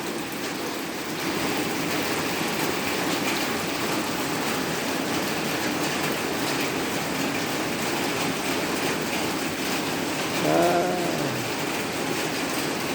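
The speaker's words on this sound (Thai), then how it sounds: "ฝนตกแล้ว น้ำไหลเป็นทางเลยครับ" Steady rain pours down in rural Thailand with a continuous hiss, water running in streams, and a brief vehicle or engine whine rises near the end.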